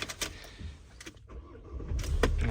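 A Renault Trafic 2.0 dCi van, a December 2019 L2H1 model, starts up: a brief clicky crank and faint rattle, then the diesel engine catches and settles into a rising idle near the close.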